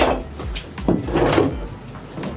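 A chest or upright freezer door being opened or closed, one of three freezers, with a few dull knocks and thuds close by over a low hum.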